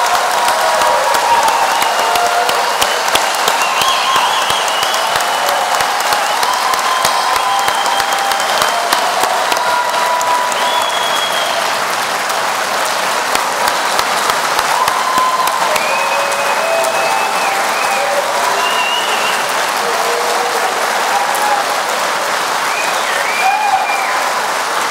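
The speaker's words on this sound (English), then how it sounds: "Could we have a quick round of applause for all of our graduates?" Sustained applause from a large audience honoring graduates at a spring architecture, planning and design commencement, a steady dense clapping that holds loud for the full stretch with faint cheers scattered through it.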